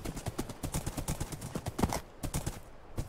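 Horse hooves clip-clop in the blocky survival game GregTech New Horizons, a rapid, steady run of hollow thuds close by, with no talk over them.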